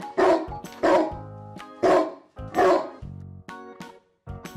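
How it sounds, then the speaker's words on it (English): A dog barks in a series of loud, close yips and bow-wows, four or five sharp barks with short gaps, over light background music. "Dog."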